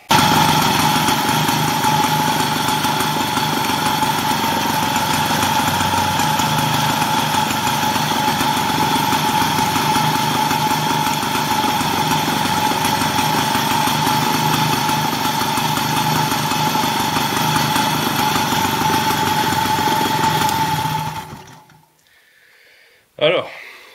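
An old motorcycle, rewired for 12-volt DC with LED flashing turn signals, idles for about twenty seconds with a loud, steady, close engine chug, then shuts off into near silence before a brief final thump.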